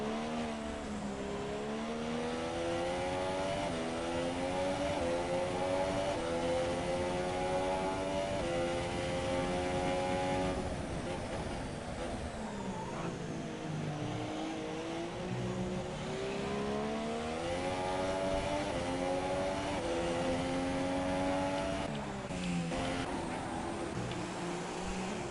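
Formula 1 race cars from the F1 2017 video game, racing at the Canada circuit, whine continuously as their engine pitch sweeps up through gear changes and dips under braking, sometimes layered from several cars close together, with no talking.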